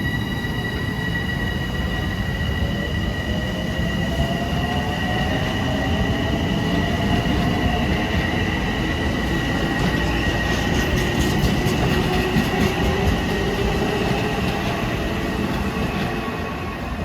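LIRR dual-mode train from Oyster Bay to Penn Station rolling through New Hyde Park station, a loud continuous rumble with high metallic wheel squeal tones drifting over it for the whole stretch.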